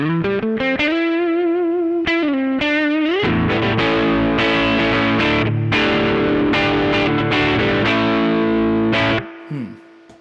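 A distorted electric guitar, an Eastman SB59V on its middle pickup setting, plays thick, gritty sustained chords and single notes, loud and continuous before ringing out at the end.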